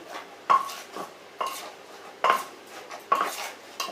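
A pestle knocks gently and rhythmically in a mortar while pounding and mixing a papaya-style salad with shrimp paste, four evenly spaced soft thuds with faint scraping between.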